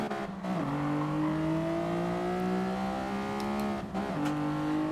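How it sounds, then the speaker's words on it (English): High-revving race car engine in Gran Turismo Sport on the Tsukuba track, a loud, steady whining engine note that climbs through gears, with brief shift dips near the start and just before the end. "The car does sound cool. It's a high revving vehicle."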